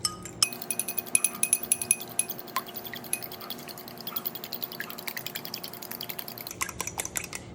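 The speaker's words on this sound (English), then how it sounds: "So you're just gonna beat your eggs really well." Eggs beaten in a bowl, with quick clinking strokes of a utensil against the bowl in a steady rapid rhythm that pauses briefly near the end.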